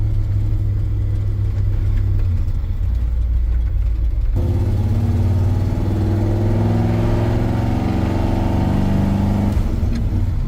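A 1986 GMC 3500 two-wheel-drive dually pickup with a 454 V8 cruising in third gear at about 35 mph and 1,500 RPM, giving a steady close engine drone and road rumble that deepens and strengthens partway through.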